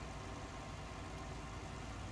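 Tractor engine in the video game Farming Simulator 19, a steady low droning hum with even vibration, faint and unchanging throughout, no voice present.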